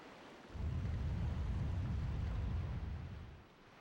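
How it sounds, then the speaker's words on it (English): Water gushes out after a rock is blown up in Zelda: The Wind Waker, a steady loud rushing roar that swells in, holds for about three seconds, then fades. "we're gonna go ahead and blow this rock up, and out gushes the water"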